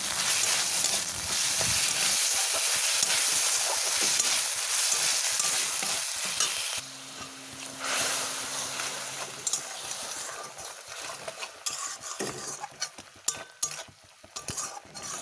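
Ridge gourd, potato and fish are stir-fried with cumin and green chilli in a pan, giving a continuous sizzle with scraping stirs and occasional utensil clinks, growing sparser and quieter toward the end.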